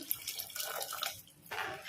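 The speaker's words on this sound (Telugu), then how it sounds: "మిరపకాయలు టమాటాలు ఉడికించాం కదా, ఆ వాటర్ అయితే వేసుకోవాలి." Water from boiled chillies and tomatoes is poured into a curry, producing a soft continuous splashing trickle with brief dips, faint and close, with no talking.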